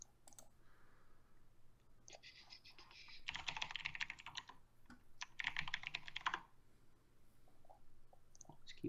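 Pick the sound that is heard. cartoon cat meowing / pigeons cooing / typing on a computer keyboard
typing on a computer keyboard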